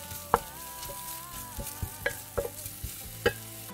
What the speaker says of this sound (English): I'll start sauteing the spices